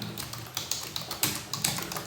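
Computer keyboard keys tapped in quick, irregular bursts while text is entered in a CAD program, close and fairly quiet with short pauses between clusters of keystrokes.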